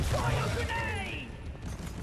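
Continuous gunfire in the co-op mining shooter Deep Rock Galactic, a dense, loud rattle of weapons mixed with game effects and voices talking over it.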